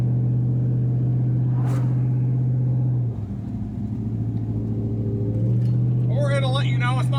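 An old C30 truck engine rumbles up close, its low drone dropping and shifting pitch twice as gears change into second, with a rising whine near the end.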